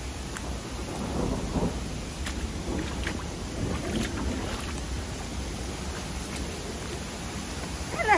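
Heavy rain pours steadily near Positano on Italy's Amalfi Coast, a dense wash of drumming water with low rumbles, continuous and fairly close.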